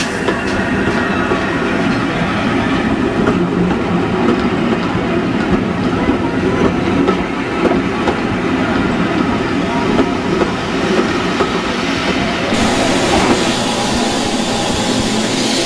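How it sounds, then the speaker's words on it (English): A train pulls in from Minehead on the West Somerset heritage railway, a steady loud rumble of rolling stock with faint wheel clatter and no talk throughout. "As the next train from Minehead arrives,"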